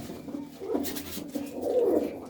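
Pigeons in a loft give low, rolling coos in two swelling bursts, fairly close, with no voices over them.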